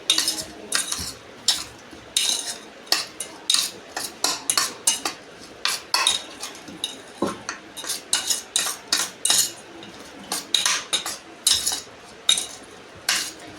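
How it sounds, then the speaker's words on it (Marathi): A utensil scrapes and clinks against a pan as drumstick pods are stirred into a thick masala. The strokes come in a brisk, repeated rhythm, close and clear, with no talk. "आता हे जे आपण शेंगाच्या मसाल्यामध्ये आपण पूर्ण मिक्स करतो आहे"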